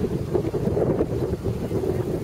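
Steady, loud wind rushing outdoors on a warm summer day, buffeting the microphone with a continuous low rumble and no clear voices.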